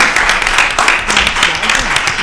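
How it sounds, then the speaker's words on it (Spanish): Short burst of audience clapping during a feminist art history discussion event, loud and dense, with voices talking over the applause. "esto se merece un aplauso"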